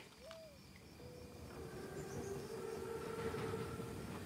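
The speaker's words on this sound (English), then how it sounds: "Train's right on time." Armored train (Panzerzug) in the Call of Duty WWII video game, a steady, fairly loud rail rumble that builds slightly, with a brief whistle-like tone near the start.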